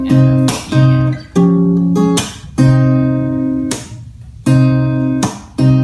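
Acoustic guitar playing the rhythm of a song at full speed: clear, close strummed chords in a syncopated pattern, with sharp muted accents between ringing sustained chords, and no voices.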